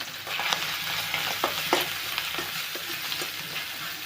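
Small pieces of boiled meat fry in a pan with a continuous, close sizzle. Occasional spatula scrapes and light clinks come through as they are stirred, and no one speaks.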